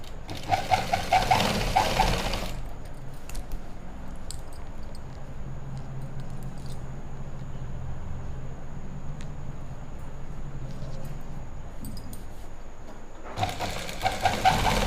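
Sewing machine running a continuous stitch along the edge of a lined pant seam, loud bursts at the start and end with a steady, quieter motor hum in between.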